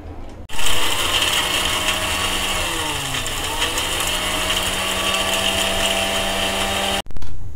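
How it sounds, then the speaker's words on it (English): A mixer grinder jar whirring as it grinds spices into fresh masala powder, a loud steady electric whine that starts abruptly, shifts pitch midway as the load changes, then cuts off before a brief restart. "So I'm going to grind it with my jar"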